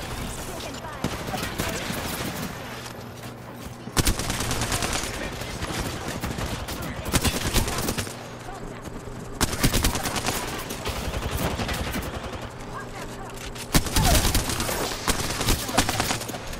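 Rapid gunfire from the Apex Legends video game, repeated bursts and sustained volleys of automatic weapons, loud and close, with players talking over the shooting.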